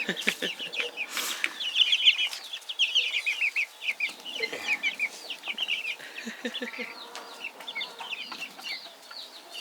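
Chickens at a chicken ranch clucking and squawking continuously, with dense overlapping calls from a nearby flock and a few louder close clucks.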